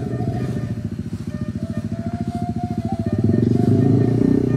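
Several motorcycles labour up a steep, muddy hill road near Bukik Gandum, Solok, their engines pulsing loudly and rhythmically at close range, with the throttle rising toward the end.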